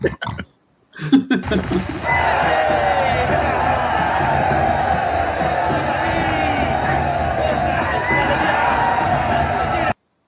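Rowdy crowd cheering and shouting in a rainy, dark outdoor scene from a game, a steady loud roar of massed voices lasting several seconds after a brief pause.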